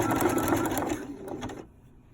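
A sewing machine stitches clear elastic into a sports bra strap, with a quick close whirring run of stitches that slows and stops within about two seconds.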